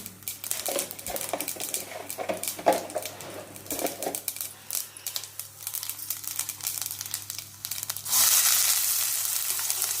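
Cumin and mustard seeds crackle and pop rapidly in hot oil, then a steady, louder sizzle takes over near the end.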